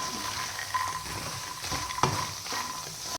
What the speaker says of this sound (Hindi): तो इन सब चीज़ों को हमने हल्का हल्का ब्राउन भूनना है।